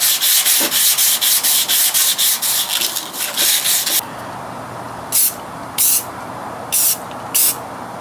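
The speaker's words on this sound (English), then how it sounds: "I'm going to sand over the piece towards the left and then the right" Rapid rhythmic sanding strokes scrub a painted Mazda Miata NC bumper, loud and close, first in fast back-and-forth bursts and then in a few slower, separate passes.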